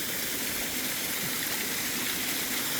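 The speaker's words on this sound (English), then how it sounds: "Water crossing on rocks." Water flows over rocks at a stream crossing on a hiking trail, a steady, loud, broadband rush and splash that stays even and close throughout with no pauses.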